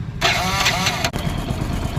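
A Hero Splendor motorcycle engine cranks with a whirring starter, then catches and settles into a steady, close idle.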